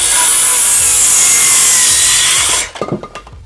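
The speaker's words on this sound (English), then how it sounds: "if you're this circular saw, your purpose is to cut this board" A circular saw cutting a wooden board: loud, steady, high whining rasp for over two seconds, then it cuts off into a few short scraping knocks as the blade spins down.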